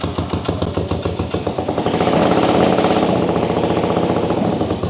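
Honda CX500 motorcycle engine starting, firing in quick uneven pulses before settling into a loud, steady, throbbing run close by.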